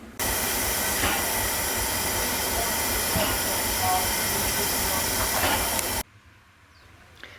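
A preserved Class 751 steam locomotive with its following fire train passes close by, a steady loud hiss and rumble with faint clicking that cuts off abruptly near the end, leaving quiet ambience.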